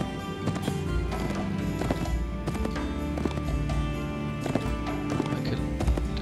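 Hooves of a horse in the video game Fallen Earth clip-clop in a steady walking rhythm, each clear knock close and distinct over a low, continuous background.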